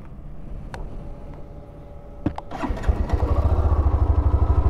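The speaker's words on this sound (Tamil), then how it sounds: "எக்ஸாஸ்ட் நோட் கேட்போமா?" A 2024 Hero Xtreme 125R, a 125cc motorcycle, starts up after a few clicks and clunks, then settles into a close, loud, steady pulsing exhaust throb at idle.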